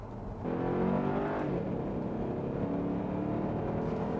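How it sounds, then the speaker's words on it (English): A Jaguar XF's V8 engine accelerates with a subdued, steady growl, its low droning tones rising in pitch as the car gains speed, with no voices. "Perfect shifts every time, a nice subdued growl from the V8 engine, and the kind of refinement one expects from a Jaguar."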